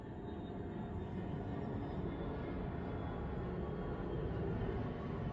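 Airplane passing overhead in a residential neighborhood, a steady broad low rumble that holds evenly throughout and swells slightly toward the end, with no talking.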